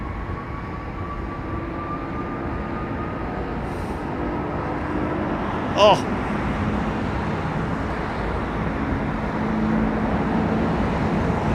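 A Sri Lankan Airbus A330 with Rolls-Royce Trent 700 engines rumbles at London Heathrow, a steady, fairly distant jet roar that swells slightly toward the end, with one brief spoken exclamation.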